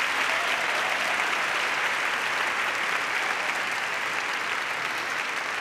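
Steady, dense applause from a large audience at a university graduation ceremony, sustained evenly for several seconds without pause or voices.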